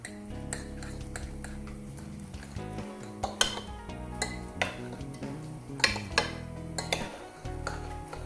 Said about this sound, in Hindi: इन सारे अज्जा को मैं करूँगी अच्छी तरह से मिक्स